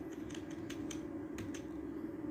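Arrow keys on a computer keyboard are tapped in a quick series of light, close clicks, roughly eight presses over a low steady hum of background noise.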